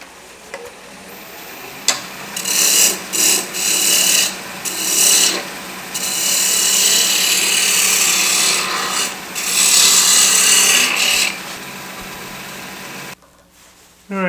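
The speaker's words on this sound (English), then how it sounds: "I'm going to take most of this down with a spindle roughing gouge." A spindle roughing gouge cuts into a wooden stool leg spinning on a lathe, making loud, continuous rasping and scraping in long passes with short breaks, over a faint motor hum.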